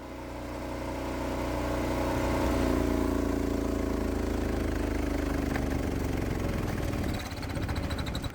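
The gasoline engine of a gas-electric hybrid golf cart roars under full-throttle acceleration, a loud, steady drone that climbs in pitch and then eases near the end.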